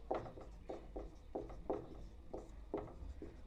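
A pen scratches out a maths solution on paper in short, rhythmic strokes, about eight quick bursts of faint, close scribbling with brief pauses between them.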